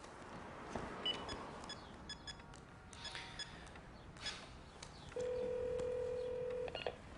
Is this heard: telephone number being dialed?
yes